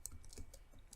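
Quick keystrokes on a computer keyboard, a short run of soft close clicks tapping in a brief burst, faint and alone.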